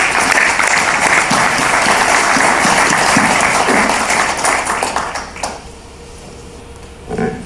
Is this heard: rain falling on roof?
no